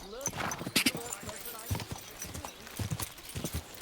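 Horse hooves clip-clopping in the medieval game Kingdom Come: Deliverance 2, with irregular thuds of hoofbeats running throughout and speech over them.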